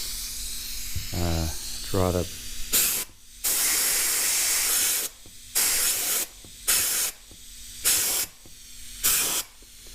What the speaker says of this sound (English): I'm going to get my compressor, and we're going to fire some air in here